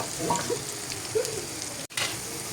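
Eggs frying in a pan for pasta give a steady, close hiss and crackle throughout, with faint stirring scrapes and a brief dropout near the end.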